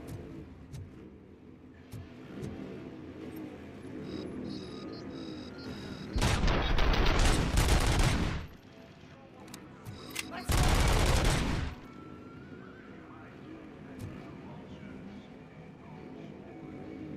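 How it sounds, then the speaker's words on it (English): A machine gun in Robocop: Rogue City fires two long, loud sustained bursts, each lasting a couple of seconds, between stretches of quieter game noise, with scattered single shots. "I have a machine gun now."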